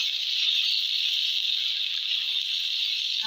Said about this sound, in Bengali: আবারও আমি নেড়ে দেবো